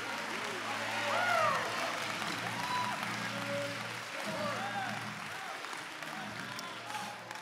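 A church congregation claps and cheers, a broad wash of hands and voices that rises early and stays lively, with shouts and singing-like vocal calls mixed through the clapping.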